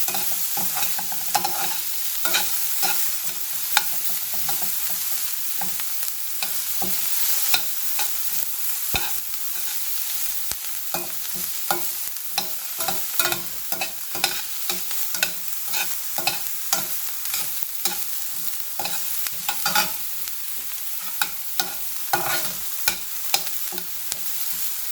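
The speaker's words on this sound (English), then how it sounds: "Just saute a little till the onion turns color and becomes translucent." Onion sautéing in a pan gives a steady close sizzle, broken by frequent scraping and tapping as it is stirred, with no talk.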